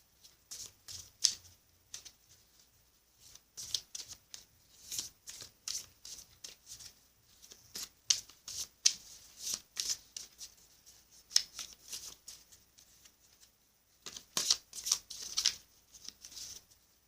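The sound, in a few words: shuffling an oracle card deck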